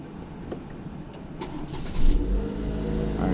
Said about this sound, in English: I'm just going to hold their key and one of mine out and show you that the vehicle does start.